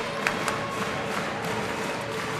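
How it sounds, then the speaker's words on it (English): A high school basketball crowd in a gym cheers and claps in a dense, steady roar, with scattered louder shouts and no single voice standing out. "Let's listen to this crowd."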